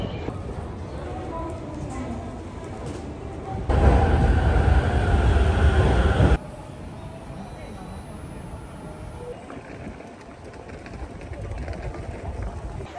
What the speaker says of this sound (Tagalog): Itong train na to, itong nasasakyan ko, it's pretty much like the MRT.